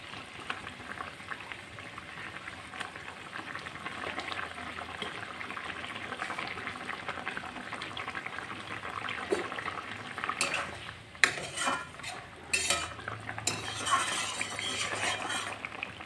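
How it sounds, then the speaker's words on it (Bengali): Fried fish being laid into a simmering curry in a pan, with a steady bubbling boil throughout and a few clinks and knocks of a utensil against the pan near the end. "এখন মাছগুলো রেখে দিয়ে দেব,"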